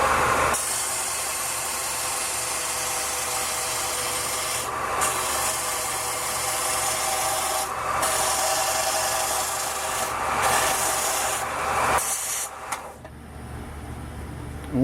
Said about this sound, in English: And once again, all that sanding fiber.